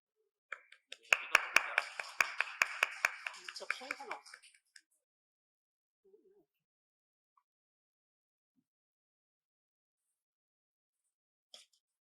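A conference audience applauds to welcome a speaker, a short burst of hand clapping lasting a few seconds before fading into near silence.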